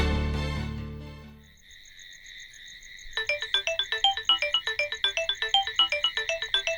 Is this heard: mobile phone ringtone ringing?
yes